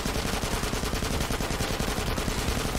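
Rapid bursts of gunfire in Resident Evil 4 Remake, dense and continuous, like automatic weapons firing nonstop at close range with no talking.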